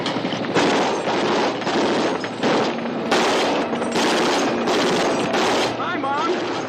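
Rapid bursts of machine-gun fire during a wartime air raid, loud and close, with repeated volleys and shouting voices mixed into the din.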